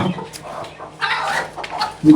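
A hen on a farm clucks in short bursts near the microphone, with a louder cluck at the end and faint background sounds between calls.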